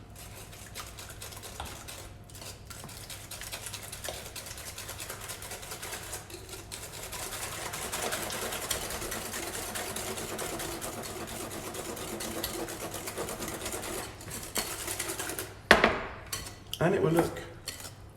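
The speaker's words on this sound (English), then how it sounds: "That all goes in now with a whisk." A whisk beats eggs, vanilla and salt into brownie batter in a bowl, making a steady, fast clatter close by that grows louder and ends with a few sharp knocks against the rim. A voice speaks briefly near the end.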